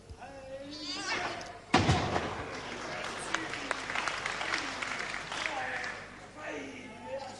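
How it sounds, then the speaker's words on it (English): Audience applause for wrestler Alan Kilby during a bout with Chris Adams, steady clapping from a crowd throughout, with a commentator talking over it and a loud thud near the start. "Great applause for Kilby there"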